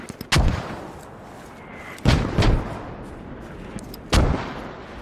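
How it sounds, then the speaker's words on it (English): Incoming mortar rounds in Squad, a 40v40 military shooter, land in three loud, sharp booms spaced about two seconds apart. Each impact is followed by a short rumbling tail, with quiet battlefield ambience in between. "Yep, there come those mortars."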